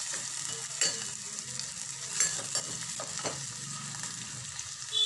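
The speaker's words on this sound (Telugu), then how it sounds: "ఉల్లిపాయలు వేగుతున్నాయి" Onions sizzling in a pan for a chicken curry with drumstick leaves, a steady close frying hiss with occasional stirring scrapes and no voice.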